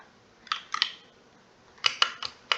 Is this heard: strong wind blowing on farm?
no